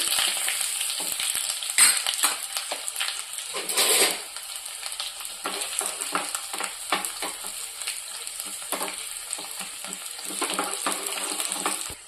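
Loud, steady crackling sizzle of mustard seeds, cumin, garlic and dried red chilli frying in hot oil, with sharp pops and a brief louder burst partway through.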